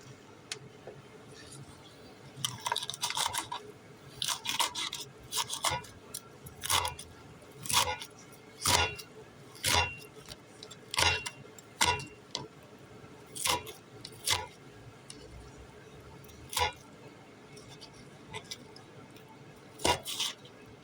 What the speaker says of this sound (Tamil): இதை கொஞ்சம் பொடி நம்ம கட் பண்ணிக்க வேண்டியது.